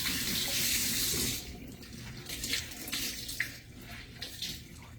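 Water runs steadily from a tap as a cleaning cloth is rinsed and rubbed against itself under the stream, starting as a strong, bright rush and then turning to a softer splashing flow.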